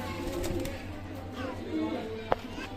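Red Punjabi pigeons coo softly and intermittently in a shop setting, low murmuring calls under steady background noise with a brief sharp click.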